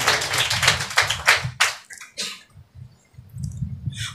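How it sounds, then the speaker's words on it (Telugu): A church congregation claps in a quick burst of overlapping hand claps, loud and close at first, then thinning into scattered claps before a second wave starts. "చప్పట్లు కొడదామా?"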